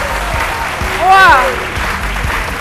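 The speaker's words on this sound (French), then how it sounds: "On les applaudit très fort." Studio audience applauding Miss Côte d'Ivoire candidates on a TV set, a steady clapping wash under an excited exclamation and host speech, swelling briefly in the middle.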